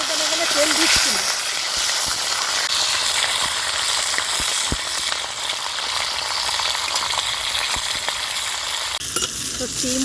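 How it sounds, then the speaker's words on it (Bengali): Flat beans and whole eggs dry-fry in a pan without oil, a dense, continuous hissing sizzle broken by sharp clinks and scrapes from stirring, close by, with brief speech in places. "তো শিম ও ডিম খুব ভালো করে ভেজে নিয়েছি"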